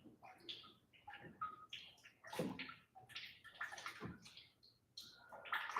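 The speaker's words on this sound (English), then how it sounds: "That's still draining fine and dandy, making a little bit of splatter." Fluid drains from the engine of a Ford F150 pickup and splatters softly below in a steady, faint trickle and spatter. Birds chirp now and then in the background.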